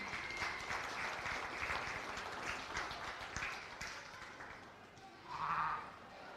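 Audience clapping in the show arena at a county fair sheep show, a steady wash of applause that fades, followed by a brief animal-like bleat or call near the end.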